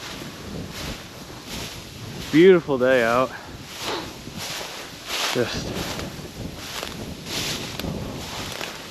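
Wind gusts across a short-grass field during an Iowa pheasant hunt on a hot day, buffeting the microphone in uneven rushes, with someone speaking briefly near the start.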